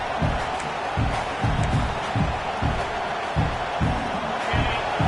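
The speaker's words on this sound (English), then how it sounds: "Listen to this crowd just shaking the girders of this place, trying to help their defense." A dense college football stadium crowd roars steadily throughout, a loud wall of cheering to help their defense, with rhythmic low thumps pulsing beneath it.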